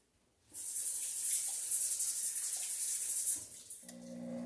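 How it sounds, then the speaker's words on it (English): After a brief quiet start, a tap runs with a steady hiss of water splashing into a sink, then eases off near the end with clinks. "I'm going to wash my hands."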